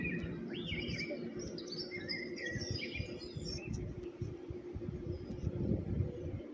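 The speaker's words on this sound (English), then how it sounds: "We started to realize all the bird and nature sounds were on repeat." Recorded birdsong and nature ambience from hidden outdoor speakers: overlapping chirps and tweets with a faint insect buzz, layered over a continuous low background rumble.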